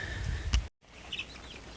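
Chickens cluck softly in short bursts, close by in a barn, with a brief dropout partway through and quiet barn ambience around them.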